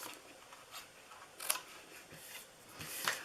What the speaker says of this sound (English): I am going to cut into these so it folds into our box easier